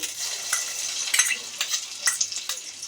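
Ground onion paste sizzles in hot oil with whole cardamom, cloves, peppercorns, bay leaf, mace and cumin for a chicken biryani, a bright close frying crackle punctuated by several stirring scrapes, with no voices.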